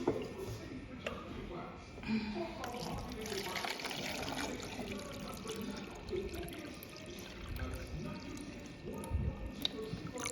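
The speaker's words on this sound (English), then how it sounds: "So I'm just gonna cover this pot over and fill some more water in here." Water runs into a pot from a filtered supply in a home kitchen, a soft, steady trickle and splash that stays quiet throughout, with a voice talking over it now and then.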